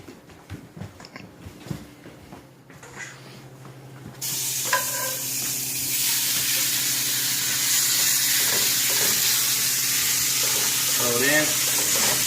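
Seasoned taco meat hits a hot pan and breaks into a loud, steady sizzle that fills the rest of the stretch, after a few seconds of quieter kitchen handling beforehand.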